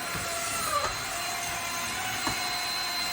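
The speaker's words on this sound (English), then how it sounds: "It scrubs the floor, and the vacuum, it uses the vacuum suction to pull it all back into the bin." A steady mechanical whir of a Haoyijor wet/dry mop attachment on a Dyson vacuum running continuously, with faint clicks and brushing noises over the drone.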